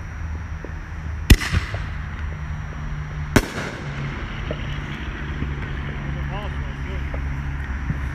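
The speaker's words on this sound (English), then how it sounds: "So one thing I like about ball shells is their symmetrical round break." Ball shell fireworks launch and burst at a small pre-July 4th backyard celebration, two sharp loud booms a couple of seconds apart over a low rumbling background, with people talking.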